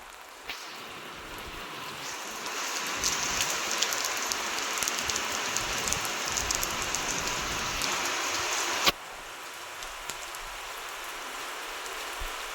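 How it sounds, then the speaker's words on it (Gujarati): Steady rain falling on a surface outdoors near farm fields, a dense even hiss of drops with a brief louder knock near the end, moderately close and without any voices. "વરસાદ થઈ ગયો એટલું સારું કહેવાય"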